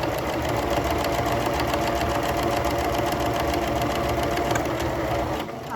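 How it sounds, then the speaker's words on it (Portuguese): Sewing machine stitching fabric for a baby nest kit, a loud, continuous rapid mechanical chatter close by that runs steadily and slows just at the end. "A gente costura ela, a gente abre a costura no ferro, passa e desvira"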